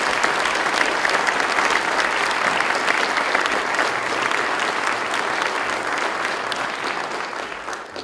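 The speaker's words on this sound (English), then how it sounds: "Let's give them a round of applause" Sustained applause from an audience at a state budget signing event at SUNY Oswego, a dense steady clapping wash that holds for the whole stretch and thins slightly toward the end.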